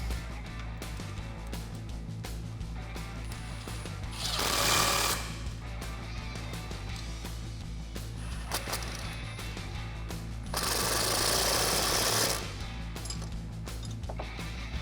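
A 1/2 inch socket wrench tightens bolts on a Jeep Wrangler TJ suspension during a lift kit install, giving quiet repeated ratcheting clicks with two louder bursts of rattling over a steady background hum.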